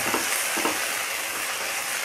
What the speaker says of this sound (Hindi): तो बस अब हम तड़का फ्राई कर रहे हैं।